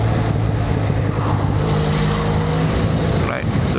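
A Benelli Leoncino 500 motorcycle cruises on a highway with a steady droning engine hum under strong wind roar, loud and continuous for the whole stretch, with a rider's voice faintly present.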